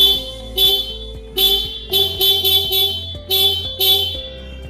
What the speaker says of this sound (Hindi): हॉर्न भी इस बाइक की काफ़ी लाउड है